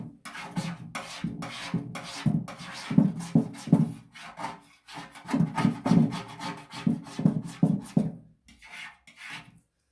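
Steady rasping and scraping as a scraper works stripped paint and lacquer off a motorcycle fuel tank, in uneven bursts of strokes with brief pauses, close and fairly loud.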